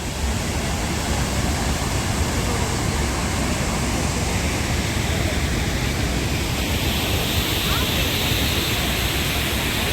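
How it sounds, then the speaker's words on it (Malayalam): Waterfall at the Bhedaghat marble area, a loud, unbroken roar of rushing water filling the scene with no pauses. "ഇതാണ് വെള്ളച്ചാട്ടത്തിൻ്റെ സീൻ കേട്ടോ"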